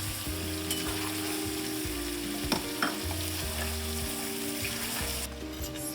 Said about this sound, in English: I've been roasting the chicken with the masalas